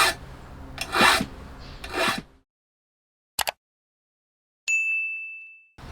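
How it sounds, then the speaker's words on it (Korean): A file rasps across the teeth of a century-old hand saw being restored, two long strokes followed by a short scrape and a ringing metallic ding that trails off, close and loud with no talk. "날이 지금 여기를 연마를 했죠"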